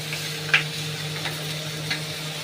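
Ash gourd pieces tossed into hot oil in a wok with bay leaf, dried chilli and five-spice seeds, then stirred, giving a low steady sizzle broken by a few light clicks.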